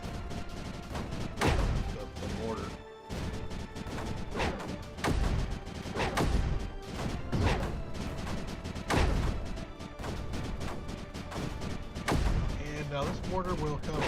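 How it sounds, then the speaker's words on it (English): Mortar fire in the strategy game Creeper World 4: repeated heavy thumps and crashing impacts at an uneven pace over a constant busy background, with a voice talking along over the shots. "mortar will cover the end of the pipe"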